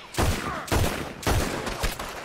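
Gunfire from the Red Dead Redemption II video game: three or four loud, heavy bursts of shots about half a second apart, each booming and echoing briefly before the next volley.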